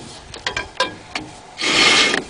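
A Ford 9 inch axle for a Jeep YJ swap, turned by hand, gives a few short mechanical clicks and rubs, then a longer grinding, rasping whir as it rotates. No one speaks over it.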